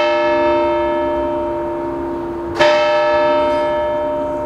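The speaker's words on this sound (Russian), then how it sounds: "Бьют часы на старой башне." An old tower clock in Vyborg strikes on a fire bell given by Catherine II, a loud ringing bell tone with long sustained overtones and one fresh strike midway, heard alone.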